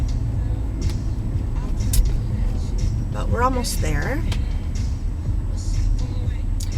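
Road traffic heard from inside a car forms a steady low rumble throughout, with a person speaking briefly over it partway through.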